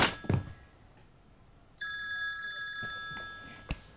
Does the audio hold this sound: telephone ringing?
yes